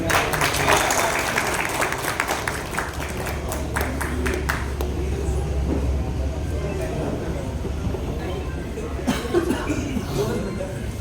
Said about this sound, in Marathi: अक्षय राजू गांडोळे रांजणी यांच्यासाठी पुन्हा या ठिकाणी टाळ्या वाजवायच्या आहेत